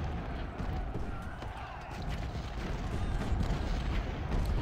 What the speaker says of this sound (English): hopefully I can start taking out some of this artillery once I've got mine moved up